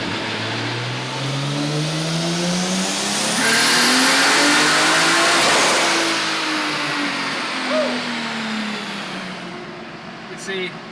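A 200,000-mile Toyota Supra engine, freshly tuned, revs up smoothly, holds, then falls back to idle, loud and close with an even, clean tone.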